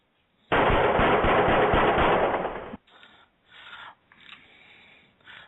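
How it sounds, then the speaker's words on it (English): Gunfire in a narrated horror tale, a loud sustained burst of rapid automatic shots lasting about two seconds, followed by fainter echoing rumbles and a few distant bursts. "the farmer aimed at La Bruja and shot her dead"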